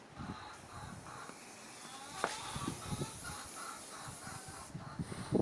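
Oven cleaner is sprayed from a can onto aluminium in a backyard mechanic setting, a broad hissing spray running through most of the moment with soft knocks and handling noises beneath.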